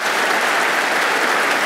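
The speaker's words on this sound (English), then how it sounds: "let's give the Portsmouth Police and Fire Honor Guard and Mr. Lavoris Pace, Deputy City Manager, a round of applause" An audience at the Portsmouth, Virginia State of the City event applauds the Portsmouth Police and Fire Honor Guard, a loud, steady, dense round of clapping from a large crowd.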